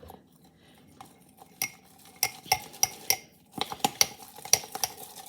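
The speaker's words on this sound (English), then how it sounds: "Give it a really good stir." Utensil stirring sourdough starter inside a glass IKEA mason jar, a run of sharp clinks and scrapes against the glass growing busier toward the end, close and fairly quiet with no talk.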